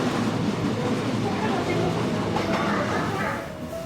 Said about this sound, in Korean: 열차가 달릴 때 내는 덜커덩 소리가 아날로그 감성을 깨워주었으나